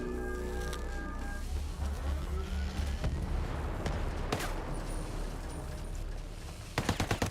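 Mark 17 rifle fire in a video game, rapid bursts of shots and louder sharp reports over a dense mix of battle noise, ending in a quick string of close cracks.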